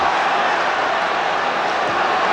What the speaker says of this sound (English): Great ooh from the crowd.